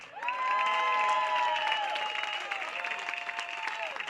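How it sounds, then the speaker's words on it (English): Crowd applause and cheering at a minor-league baseball game between the Alameda Anchors and Sonoma Stompers, a steady, fairly distant wash of clapping with a few shouts across the clip. "So everybody, please, big round of applause for Eddie Mora-Loera."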